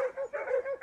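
Dogs give a quick run of high, tonal yips and whimpering barks close by in a brief, rhythmic burst, in a 1982 Soviet fairy-tale film.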